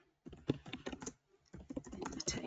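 Computer keyboard typing in bursts of rapid, close key clicks, with a short pause in the middle, fairly quiet and alone.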